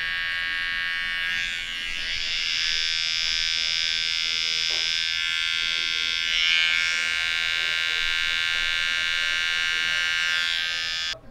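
An electric razor or trimmer buzzes steadily and close as a beard is shaved at a barbershop, one continuous high whine that wavers slightly in pitch.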